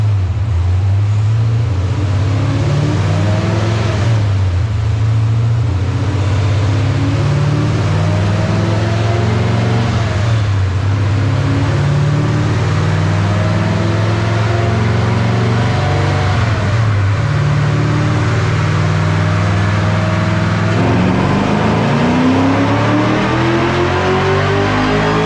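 Car engine revving hard on a dyno roller through repeated full pulls, each rising in pitch before dropping back, loud and close, with a steady roller drone beneath and no talking.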